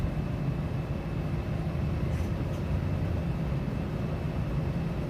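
An old computer whirring loudly like a locomotive, a steady dense rumbling roar that holds unchanged from start to finish, with no talking.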